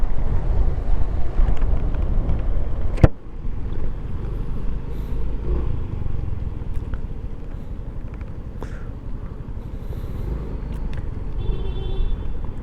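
Strong wind buffets the microphone in a steady, heavy low rumble for the whole stretch, with one sharp knock near the start, during heavy rain.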